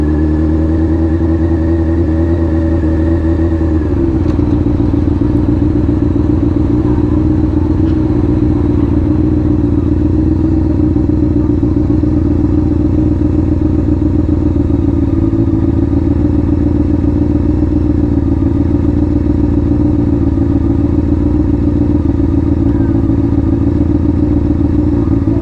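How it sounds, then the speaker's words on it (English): A cammed motorcycle engine lugging at low RPM in the wrong gear, a steady deep drone with an uneven, lopey throb, loud and close throughout with a brief shift in tone early on. "I love how this bike sounds cammed when it's in the wrong gear at low RPM"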